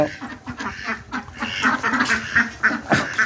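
Several ducks, egg-laying birds, quacking close by in a rapid, overlapping chorus of nasal calls.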